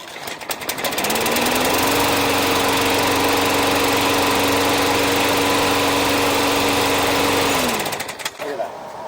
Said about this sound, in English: back to the lawnmower